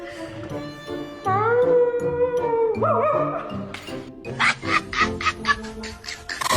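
A woman imitates a dog with a run of yips, whimpers and short barks. The bursts come close together, are fairly loud, and sit over a constant background.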